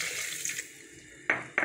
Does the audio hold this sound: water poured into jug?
yes